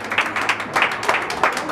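Applause from a crowd at a mariachi birthday performance in Bogotá, a dense steady patter of many hands clapping at moderate loudness.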